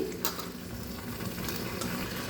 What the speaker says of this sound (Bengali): এবার নুন দিয়ে চটকে রাখা থোড়টা দিয়ে দিচ্ছি।